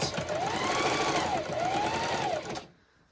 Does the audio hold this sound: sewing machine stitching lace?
yes